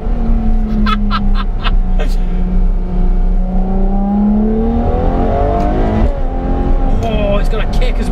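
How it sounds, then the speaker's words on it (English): Ferrari F12 TDF V12 engine revving and downshifting, a loud sustained engine note that rises and falls in pitch with quick gear changes, heard from inside the car alongside speech. "Watch how quickly this downshifts."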